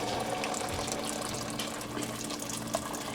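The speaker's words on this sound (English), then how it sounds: "And hot, if not boiling water from the kettle." Steady rushing pour of hot water from a kettle, continuous and fairly close, with a faint splashy texture throughout and no voices.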